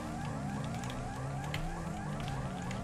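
A police siren in the video game Grand Theft Auto V wails continuously in overlapping rising and falling sweeps, loud and steady across the whole stretch with no speech.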